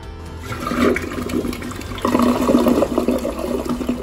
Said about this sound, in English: Did you hear that? That's the sound of a clean toilet.